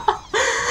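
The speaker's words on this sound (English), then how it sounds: "Why they put such a cute voice on such a giant bird like that?" A giant bird enemy in the video game Cosmic Break gives a short, high, cute-voiced squawking cry, one brief chirp followed by a sustained bright call, loud and close with no talk over it.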